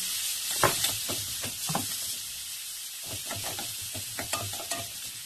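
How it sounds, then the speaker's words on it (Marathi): Ground spices including coriander fry in a pan for a pea curry, a steady hiss of sizzling broken by repeated scraping strokes of a spoon, in bursts with a short pause midway. "आता सर्व मसाले तळून घेऊ आपण।"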